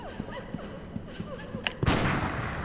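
A firearm shot rings out in the Bloodborne video game, a sharp sudden blast near the end amid a series of small clanks and combat sounds.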